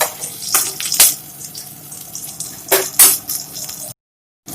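Onion, green chilli and ginger fry in a pan with a soft sizzle, punctuated by a few sharp bursts of spattering and stirring, then cuts to silence.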